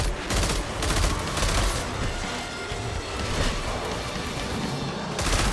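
Sustained gunfire in Destiny 2, loud, continuous volleys of shots with booming impacts filling the whole stretch without pause.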